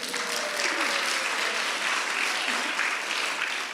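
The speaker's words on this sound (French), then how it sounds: "Est-ce qu'on peut les applaudir ?" A church congregation applauds children after a Christmas-season sermon point, a steady dense round of clapping that holds evenly for a few seconds with no voices on top.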